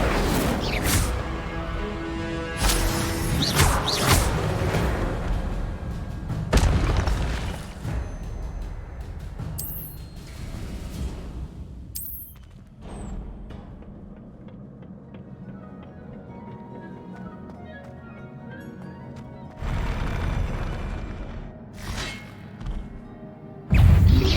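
Spells such as Incendio, Levioso and Protego are cast in the Hogwarts Legacy video game, with repeated heavy thuds, bursts and swishes alternating with quieter ambient stretches, and a loud impact at the end.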